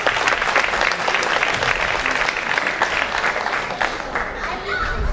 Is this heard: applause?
yes